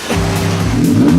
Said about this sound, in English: This is the bike he pulled up on.